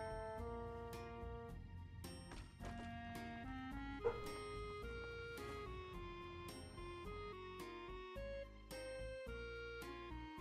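Dogs in the video game Fallout 4 bark and yip repeatedly in a steady run of sharp bursts over continuous game music, with no talk.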